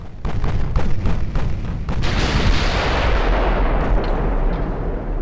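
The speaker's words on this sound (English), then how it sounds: "There's another big torpedo hit for our side." Naval battle in Ultimate Admiral: Dreadnoughts: a loud torpedo hit booms amid rapid cannon fire, rolling into a sustained roaring explosion that slowly fades, with no voices.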